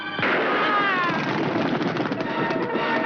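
A pistol gunshot in a Hindi action film scene cracks out sharply near the start, followed by a loud, dense wash of reverberant noise and dramatic sound that fills the rest of the moment without a clear voice.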